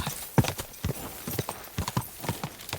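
Horse hooves pounding along in a race in Kingdom Come Deliverance 2, with close, heavy clip-clop beats coming in quick irregular clusters over a short stretch and no voices.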